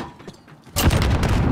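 A frag grenade goes off in a battle royale video game. After a quiet moment, a sudden loud, broad blast hits and holds as a dense rumbling roar until the end.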